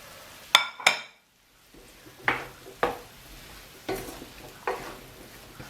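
One large cubed potato tipped into a pan of soft onions: two sharp metallic clinks, a short pause, then several rhythmic scraping stirs against the pan, close and alone.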